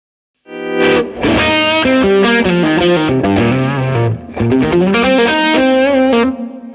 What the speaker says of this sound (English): the only reason I used a little bit of that flanger is to give it a little bit of stereo spread